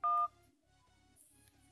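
A single phone keypad tone as 1 is pressed during an automated call, a loud, short two-pitch beep at the start followed by faint line noise and quiet background hum.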